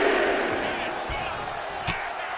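A wrestling arena crowd cheers in the WWE 2K24 video game, a dense roar of many voices that holds steady with a few sharp thuds and bursts over it.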